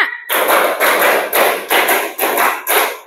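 Two rounds of five sharp, counted claps in a classroom, each round a quick even burst of loud, close hand claps with short gaps between rounds, no talking over them.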